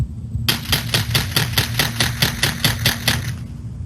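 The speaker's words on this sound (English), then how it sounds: "The first time, you can hear gunfire prior to seeing a suspect." Rapid burst of about a dozen evenly spaced gunshots caught on a home surveillance camera, sharp cracks in steady succession lasting roughly three seconds, fairly loud with no voices.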